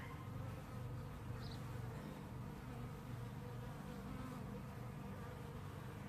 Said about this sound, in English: A lot more bees now coming back to the nuke box.